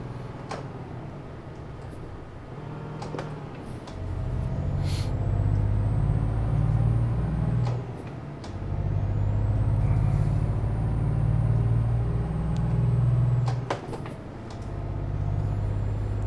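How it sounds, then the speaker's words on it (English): A big truck in a road tunnel lets out repeated loud hisses of its air brakes over a steady heavy engine rumble, with booming reverberant traffic noise close by. "Why would you put your brakes on in front of a big truck in a tunnel when there's nothing ahead of you?"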